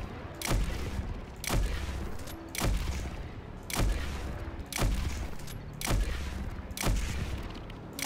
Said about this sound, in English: So we're going to see what I can do with my sniper here.